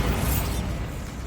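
A Bombarda spell blast in Hogwarts Legacy gives one short, loud magical explosion with a crackling burst that quickly fades, heard alone.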